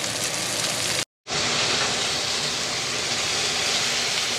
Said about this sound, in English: Over here, I'm just gonna get some butter in there. Give a little saute on those green beans